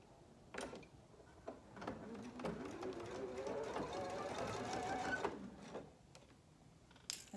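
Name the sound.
sewing machine stitching a market bag seam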